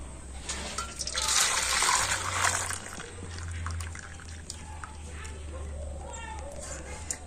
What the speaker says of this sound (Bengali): তো দুধটাকে আমি একটা জায়গাতে করে ঢেলে নিয়েছি